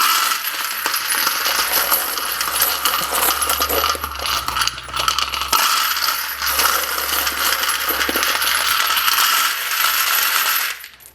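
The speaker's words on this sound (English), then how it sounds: "as we drop them in, you can see that the case head is much heavier and it tries to pull into those holes here" Brass cartridge cases are poured and shaken into a plastic Lee APP collator, giving a dense, continuous metallic clatter and jingle for about ten seconds before it stops, with no talking.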